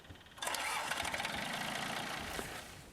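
A John Deere 755 compact tractor engine cranks and catches on its first run outdoors, then settles into a steady, fairly loud diesel idle that continues for a few seconds with no talking.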